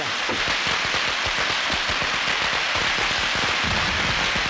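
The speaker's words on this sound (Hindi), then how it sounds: "हम पटाखे जला रहे हैं।" A long string of firecrackers crackles in rapid, dense pops at a street celebration, loud and continuous throughout without pause or voices.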